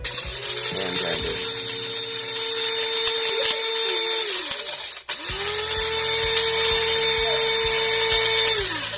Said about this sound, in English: a hand grinder.